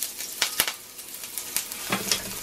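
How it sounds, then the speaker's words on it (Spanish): Garlic frying in hot oil in a skillet for Chinese beef and broccoli: a soft, steady sizzle punctuated by a few quick scraping and tapping strokes, close but quiet, no voices. "Ya por este lado lo que tengo es mi sartén caliente. Le voy a poner aceite. Le voy a agregar lo que es nuestros ajos."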